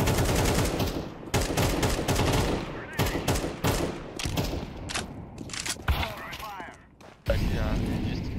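Rapid rifle fire in a competitive shooter game, loud sharp shots bursting repeatedly through the clip, some in quick runs and others spaced apart, with players talking over the action.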